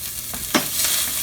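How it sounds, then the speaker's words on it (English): Sausage sautéing in olive oil in a hot pan for pasta meat sauce, giving a steady close sizzle with a brief stir or scrape near the middle. "Now we're sauteing it."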